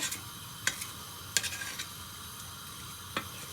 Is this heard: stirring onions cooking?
yes